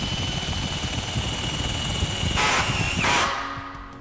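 A power drill drives stainless steel self-tapping screws into a stair rail, a close, loud motor whine that holds steady, rises briefly near the end, then cuts off and spins down.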